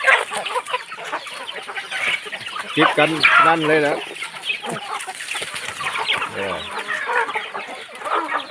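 Chickens cluck and squawk close by inside a chicken coop in the morning as they wait hungrily for food, several overlapping calls mixed with someone talking.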